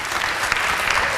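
A short burst of dense audience clapping at a charity event, loud and close, with many hands at once.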